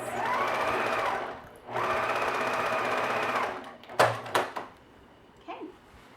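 A sewing machine stitches a seam on a boxed cushion cover in two close, steady bursts of whirring, then stops, followed by a few clicks and handling knocks.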